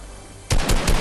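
Gunfire in the video game Fortnite, a sudden loud burst of rapid automatic shots that starts after a quiet moment and keeps going to the end.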